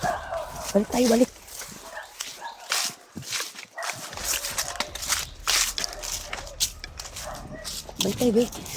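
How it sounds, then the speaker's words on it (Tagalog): Several dogs bark in sharp bursts, some near and some farther off, with yips and a whimper, among footsteps and people talking while walking outdoors near a ravine. "May aso dyan."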